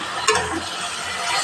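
Fried cauliflower and potatoes stirred into a sizzling fish curry in a pan, a soft scrape of the spoon over steady, close frying hiss.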